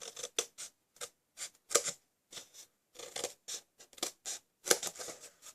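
Scissors snipping through paper for Christmas tree ornaments, in quick, crisp clusters of cuts separated by short pauses, close and fairly quiet.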